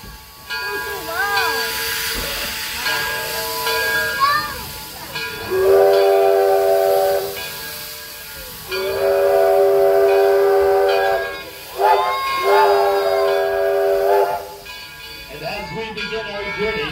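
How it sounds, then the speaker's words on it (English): A steam train at Greenfield Village chugs and hisses while several long, loud whistle blasts sound in sequence, with people talking between them. "please stay seated while the train's in motion"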